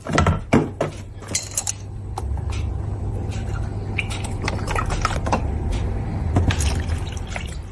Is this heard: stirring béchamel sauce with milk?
yes